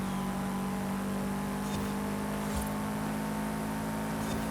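A Porsche Cayman engine in the racing game Forza Horizon 5, a steady droning hum held at constant revs throughout, loud and continuous with no talk.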